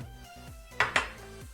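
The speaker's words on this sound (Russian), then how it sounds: "Размешиваем это все хорошенько." A spoon stirs a homemade cough remedy in a small cup or glass, with two quick bright clinks against the side standing out over a soft, close background.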